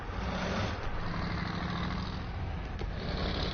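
A truck engine idles steadily in SnowRunner, a low, even rumble filling the whole stretch with no speech over it and only faint ticks near the end.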